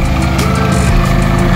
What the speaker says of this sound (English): Just wanted to show you what this little tractor can do.